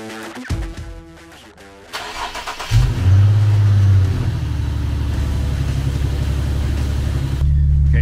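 A car starts its engine nearby and settles into a steady, loud running hum with a low rumble as it pulls away for a very short drive around the block.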